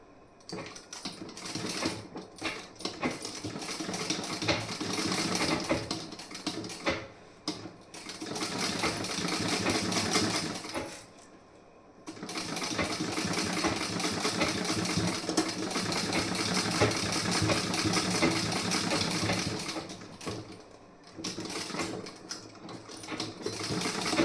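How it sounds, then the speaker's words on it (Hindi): An electric sewing machine stitching fabric for the back piece and sleeve of a garment, a rapid mechanical whirring in long continuous runs broken by short pauses and stop-start bursts, close and steady. "उल्टा करने के बाद आप यहाँ पे फिर से स्टिचिंग करेंगी।"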